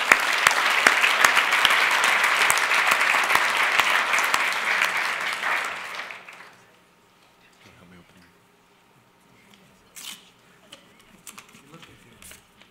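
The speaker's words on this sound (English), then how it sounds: "All right, let's give them another round of applause." Applause from a theatre audience at a business awards ceremony in Calgary, with dense, loud clapping for about six seconds that stops abruptly, followed by quiet room noise and a few faint scattered sounds.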